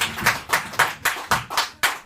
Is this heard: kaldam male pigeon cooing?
no